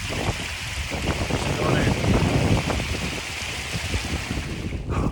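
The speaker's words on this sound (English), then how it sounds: "a bit windy up here, to be expected" Strong wind blows across the open Kinder Scout moors and buffets the microphone. The gusts make a loud, continuous rushing roar that rises and falls, with no other sound standing out.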